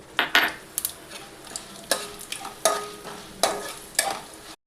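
Chana dal, urad dal and dry red chillies tossed in hot oil for semiya upma, a soft background sizzle broken by several sharp scraping and clattering strokes of a spoon against the pan.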